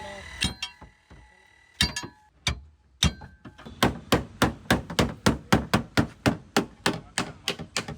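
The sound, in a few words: hammering dented car bonnet of Scorpio N from inside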